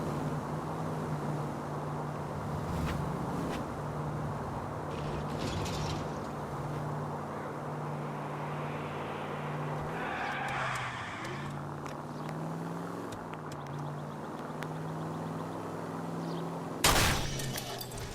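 A car drives in the L.A. Noire video game, its engine droning steadily, with a short sharp crash or bang near the end.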